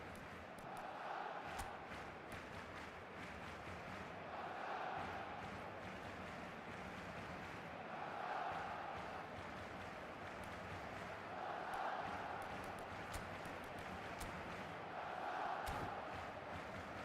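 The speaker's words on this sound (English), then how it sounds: "it's applause all round us here" Stadium crowd in an eFootball match swelling into cheers and applause in repeated waves, distant and fairly faint, under a low continuous murmur of the crowd.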